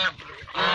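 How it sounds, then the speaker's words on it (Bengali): A flock of domestic ducks or geese honks loudly and close by in a short burst, several birds calling at once near a rice field. "সব হাঁসের দল"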